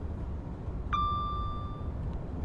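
Train Sim World 6 game audio of a BR Class 805 Evero train car heard from outside: a steady low rumble with a clear electric whine that rises briefly and then fades away.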